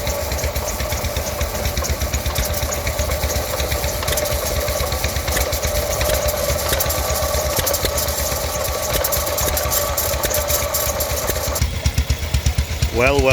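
A small stationary engine mounted in a homemade motorcycle frame runs steadily with a rapid, even chugging rhythm, close and fairly loud, while a voice speaks faintly underneath near the end.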